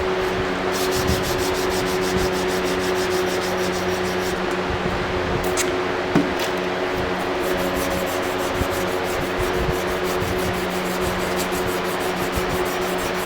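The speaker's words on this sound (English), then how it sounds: "I've been sanding on this off and on" Continuous abrasive rubbing of sanding on a forged steel Bowie knife blade, an even gritty hiss with a faint steady hum, no talking.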